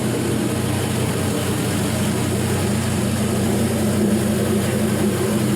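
A 5.3-litre LS V8 with 100,000 miles idles steadily and evenly, a close, continuous low rumble and deep exhaust tone running unbroken, with no voices over it.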